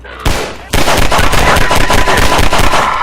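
Rapid gunfire in Half-Life 2: one early shot, then a steady burst of repeated rounds at close range, loud and rhythmic, with no talking over it.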